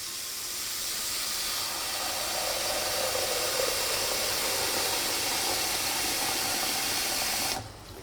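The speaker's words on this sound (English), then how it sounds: "I've just turned my stove on." A stove burner that has just been switched on hisses in a steady, broad rush near the microphone, holding level for several seconds before it cuts off abruptly near the end.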